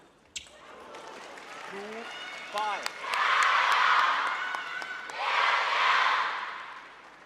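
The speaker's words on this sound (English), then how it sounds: "The crowd reacting to the tomahawk serve." At the China Open women's singles table tennis match, a crowd breaks into applause and cheering in two swelling waves after a serve, with a ball tap and a commentator's voice before.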